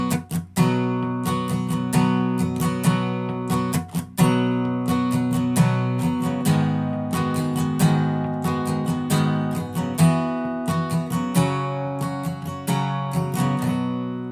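Acoustic guitar strummed slowly through the chords of a song, with steady down-up strokes that ring out full and close, and no voice over the playing.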